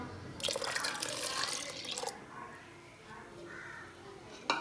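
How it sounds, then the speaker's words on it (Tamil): Milk is poured into a pot of rava payasam, a close, brief gush of liquid lasting under two seconds, followed by quieter dripping and faint kitchen sounds. "இப்போ நம்ம இதில் பால் ஆட் பண்ணிக்கலாம்"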